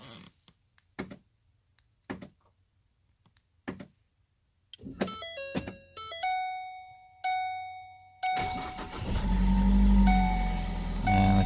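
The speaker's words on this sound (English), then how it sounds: "Car starts up." A few clicks and beeps, then a 2012-2018 Ford Focus engine, triggered by an added remote start, cranks and catches at about eight seconds, settling into a loud, steady idle close by.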